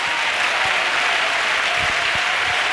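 A church congregation claps together in praise of Jesus, a dense and steady wash of many hands that carries through the whole moment with no voices rising above it.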